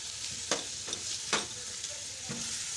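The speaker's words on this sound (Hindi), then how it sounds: "अब ये मेरे पास जो ये मसाले हैं ये भी मैं साथ ही इसको डाल के सौते करूँगी।" Spices sautéing with chicken in a pot for chicken vegetable soup, a soft steady sizzle under a few distinct spoon scrapes and taps against the pan, close and fairly quiet, no talking.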